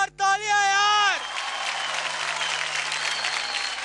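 A television dance-show studio audience breaks into strong, sustained applause, a dense wall of clapping following a brief loud tonal sting at the start, continuing steadily to the end.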